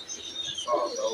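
Pigeons on a rooftop in hot sun during a pigeon-catching session, a short soft cooing and chirping call at moderate distance over faint background noise.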